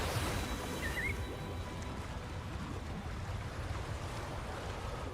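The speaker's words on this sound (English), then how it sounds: "That's a really big waterfall." A very large waterfall in the video game Wuthering Waves, a steady broad rushing roar of falling water at moderate level, continuous and unbroken.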